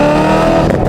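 A BMW car engine roars loudly and steadily up close, a dense harmonic drone with a slight rise near the end and no voices.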